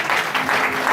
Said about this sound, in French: Acclamons pour le micro.